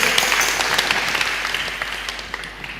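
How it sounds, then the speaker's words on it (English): A church gathering in Goa applauds a man for his writing, a dense burst of hand clapping that starts strong and gradually thins and fades. "Can we clap for him?"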